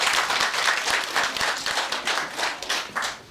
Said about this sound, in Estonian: Nii et teeme Ülole ka aplausi.